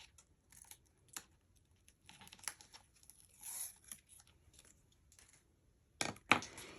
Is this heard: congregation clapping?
no